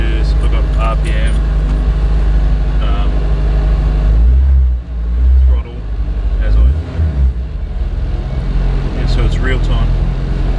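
A car engine idles steadily after starting, a loud low rumble running throughout with a brief dip in the middle, while a person talks over it.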